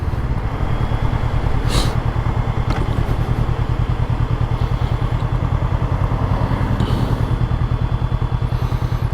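Honda CBR500R motorcycle engine running hard in sixth gear near redline while riding, a loud steady droning buzz with constant wind rush throughout.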